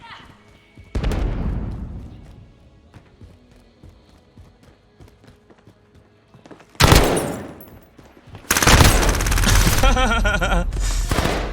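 Overwatch 2 gunfire: a single heavy shot with a booming tail, then later rapid sustained bursts of automatic fire, loud and close, with brief game voice lines between.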